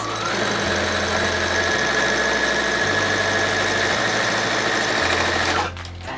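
A sewing machine runs steadily while stitching a denim scrunchie, a loud, close, continuous mechanical whir with a low pulsing hum, stopping abruptly near the end.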